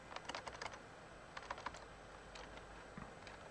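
Typing on a computer keyboard: quick clusters of light key clicks in short bursts separated by pauses, close and fairly quiet, with no talk.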